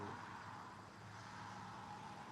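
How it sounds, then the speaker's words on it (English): Far-off interstate traffic forms a faint, continuous low roar of passing cars and trucks, an even wash of road noise with no distinct vehicles standing out. "you'll still hear traffic. We live off the interstate"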